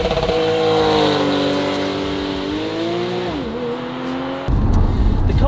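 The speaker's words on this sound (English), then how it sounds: "I'll show the launch control in the car." A Porsche 911 Targa 4 GTS launches hard using launch control, its engine note rising loud and steady through the revs with a clear upshift dip before the sound breaks into roaring wind and road noise.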